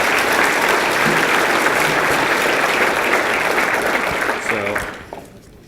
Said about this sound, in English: Big round of applause for the work she's doing